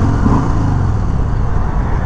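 A 2021 Harley-Davidson Sport Glide motorcycle engine rumbles loud and steady up close while riding, with a continuous low drone as the rider downshifts.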